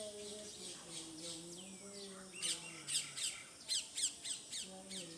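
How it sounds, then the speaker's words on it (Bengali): A pet bird gives a rapid run of loud, sharp squawks in the second half after a quieter call, while people talk softly in the background. "পাখিরে ডাকো কু কু, পাখি কু কু করে।"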